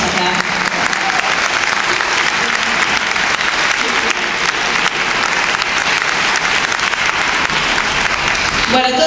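An audience at the Buenos Aires International Book Fair claps for an author, sustained loud applause from a large crowd that continues evenly with no break.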